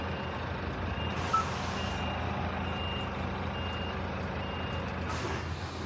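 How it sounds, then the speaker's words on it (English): A reversing truck's backup beeps repeat in a steady, evenly spaced series of short tones over constant engine and road rumble, heard from a moderate distance with no talk. "Who's beeping?"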